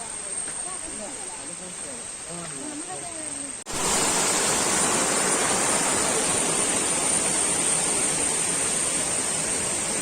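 Water flowing on a hillside hiking trail, starting as a softer rush with a voice faintly audible, then abruptly jumping to a loud, steady, close-up roar like a small waterfall or stream.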